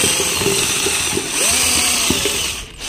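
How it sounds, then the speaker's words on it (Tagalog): Power drill with a mixing paddle stirring a wood glue mixture for a subwoofer box build, a loud continuous motor whine and rattling churn that shifts in pitch as the speed varies, with no talking. "Yung mixture natin, gumamit lang ako ng drill, tapos ito pang halo."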